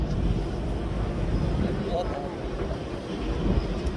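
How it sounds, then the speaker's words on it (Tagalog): Strong wind blowing on a passenger ship buffets the microphone with a continuous low roar and rumble, loud and unbroken, as if recorded outdoors on deck. "Sobrang hangin"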